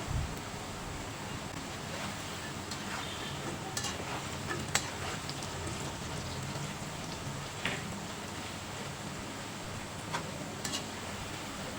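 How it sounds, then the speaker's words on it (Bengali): Pieces of gaja dough deep-frying in hot oil, a continuous dense crackling sizzle with scattered pops, steady and close throughout, no voices. "এগুলো আমি লাল লাল করে ভেজে নেব।"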